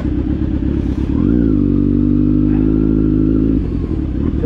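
A Kawasaki Z900 superbike engine revs hard nearby, rising into a loud sustained high-rpm roar for a couple of seconds before dropping back to a rough idle, with mechanical clatter underneath.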